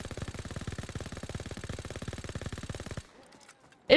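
A very fast-firing weapon in Call of Duty Zombies lets out a dense, even stream of rapid shots for about three seconds, then stops abruptly, followed by quiet and a short loud burst at the end.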